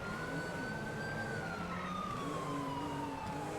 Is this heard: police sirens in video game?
yes